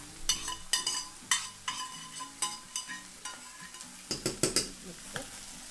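A spoon stirs black-eyed peas with roasted cumin seeds in a pot, giving a series of quiet, close scraping and clinking strokes with a faint sizzle underneath.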